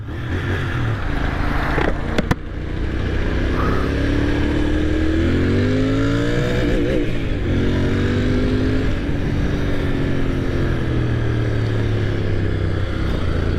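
Royal Enfield Interceptor 650 twin engine revving hard during a test ride, a close, loud exhaust note climbing in pitch through several surges over a steady idle rumble, no talking.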